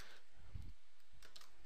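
Quiet typing on a computer keyboard, with a few soft key taps and a louder thump near the start, then scattered clicks, close by and faint.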